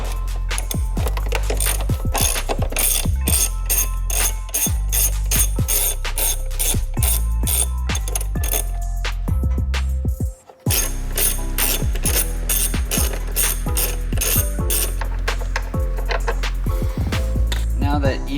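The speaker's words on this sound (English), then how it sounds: "you're gonna wanna take a 10 mil and remove the 4 bolts at each" Metal clicks and ratcheting from a 10 mm socket wrench loosening the shifter cover bolts on an NC Mazda Miata, rapid and close up with a brief pause midway, steady throughout.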